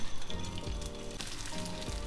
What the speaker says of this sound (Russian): Обжариваем на умеренном огне булгур.